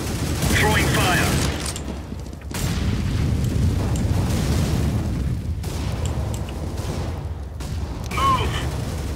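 A fire grenade thrown in Counter-Strike: Global Offensive, a loud roaring burst of flame and crackling blasts that fills the clip, briefly cutting out and resuming, with other game noise around it.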